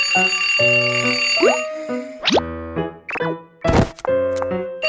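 Alarm clock ringing in a bedroom in a Peppa Pig cartoon, sounding in repeated bright bursts that keep going after it should stop, mixed with springy comic sound effects and a thunk, loud and close with no talk.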